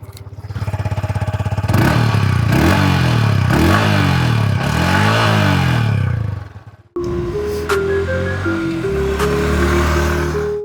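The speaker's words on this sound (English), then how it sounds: "here's a look at the exhaust note of the XSR 155" A Yamaha XSR 155 motorcycle runs with a loud, close exhaust note. It revs up and down repeatedly in rising and falling sweeps, breaks off for a moment, then settles into a throbbing idle with short blips of throttle.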